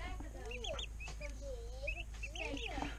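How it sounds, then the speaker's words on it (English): Seven young white turkey poults chirp in thin, high peeps scattered across the clip, while someone talks steadily over them. "there's 7 white turkeys here."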